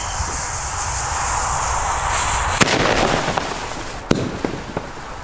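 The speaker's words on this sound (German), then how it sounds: "So Freunde, die No Sound Bombenrohre." Klasek "No Sound" bomb tube fireworks going off outdoors, a steady crackling hiss with a few sharp pops and bangs scattered through, moderately loud and close, no voices.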